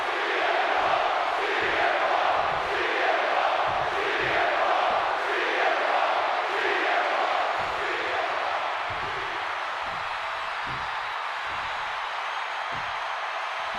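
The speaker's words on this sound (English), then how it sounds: "the roar of this crowd is absolutely deafening" Huge arena crowd in the WWE 2K26 wrestling game roaring and chanting in rhythmic waves, a dense, loud wall of cheering with pulsing stomps or claps underneath, no clear speech.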